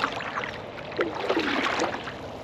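A kayak drifts backwards on the Werre river, with soft water lapping and paddle splashes close by and no speech.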